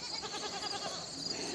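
Goats bleat in a farm pen, a steady, fairly loud and close chorus of overlapping calls that continues throughout.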